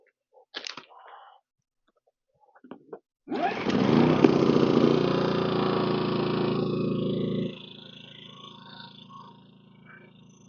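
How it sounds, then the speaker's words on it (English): A DINKING 2300i-M inverter generator is pulled into life after a few short handling sounds, running as a loud, close, steady engine drone before its pitch and loudness drop back to a softer idle. "Okay, so now I'm running off of my generator."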